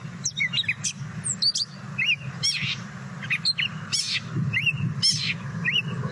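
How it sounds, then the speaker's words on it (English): Gray catbird singing a rambling run of varied chirps, squeaks and slurred notes in quick irregular phrases, fairly close, over a low steady background hum. "The gray catbird tends to kind of go on and on and on and ramble on like a thrasher."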